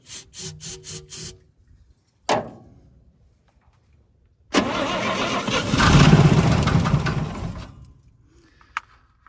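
A 1962 International C-100 six-cylinder engine cranks in short bursts, coughs once, then fires and roars to a loud rough idle that swells and fades, close by with no talk.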